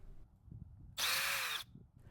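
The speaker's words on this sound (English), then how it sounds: "I'm going to use my drill to turn the starter post for the electric starter" A cordless power drill whirs in a single brief burst of a little over half a second as it turns the starter post on a Craftsman 4-cycle string trimmer, with quiet handling sounds before and after.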